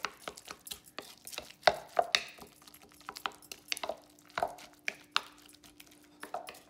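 Guacamole worked with a wooden spatula in a bowl: a run of close, irregular wet taps and scrapes, some sharper knocks against the bowl, quiet between strokes, no voices.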